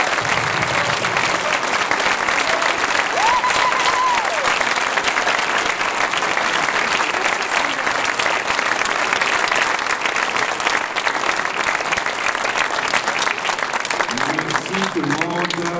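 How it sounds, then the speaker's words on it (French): A crowd at a 2018 provincial election local debate in Pointe-aux-Trembles applauds four candidates with loud, dense, sustained clapping for about sixteen seconds, and a brief voice cuts in near the end. "je crois que nos 4 candidats méritent une très bonne main d'applaudissements"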